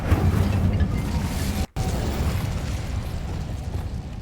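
Incendio fire spell in Hogwarts Legacy: a sustained roaring, rumbling blast that fills the whole span, broken by one brief cutout midway, loud and close with no talk.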